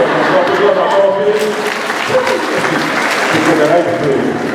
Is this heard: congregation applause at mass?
yes